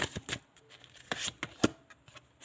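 A tarot card is drawn from the deck: a few quick, close papery flicks and shuffling slides, spaced irregularly with short quiet gaps between them.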